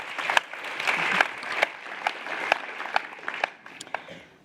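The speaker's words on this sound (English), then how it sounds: "I'm going to have to ask everyone to give you a big round of applause" Audience applause at a convention closing show, a dense sustained patter of many hands clapping with a few louder sharp claps, fading slightly toward the end.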